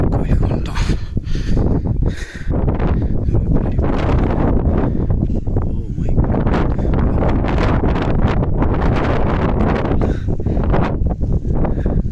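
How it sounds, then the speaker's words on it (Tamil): Strong wind on a hilltop temple buffets the microphone in heavy, roaring gusts that continue throughout, loud and close. "மேலே செம்ம காற்றடிக்குதுங்க ஃபோனில் வீடியோ கூட எடுக்க முடியல"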